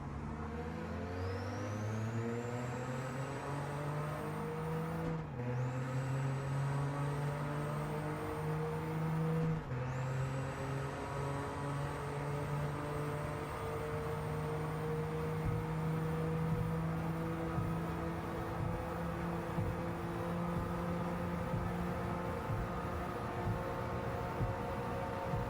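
Engine note of a car in a Kei cup racing video game easing off and downshifting as it brakes into a corner, with the pitch dropping in steps over a steady drone and a faint whine running throughout, no talking.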